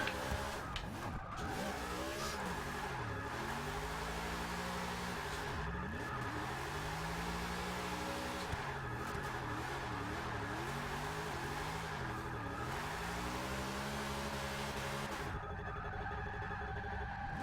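Chevrolet Bel Air AWD drift build in Forza 6, its engine revving and droning continuously through sweeping pitch changes as the car slides around corners, with tire noise underneath, steady and loud, no talk.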